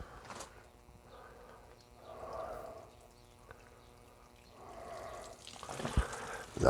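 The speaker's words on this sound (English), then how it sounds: "And a bit more water onto there." Water pours onto compost in garden plant pots in several soft splashing bursts, close by, separated by quiet pauses, with a light clatter near the end.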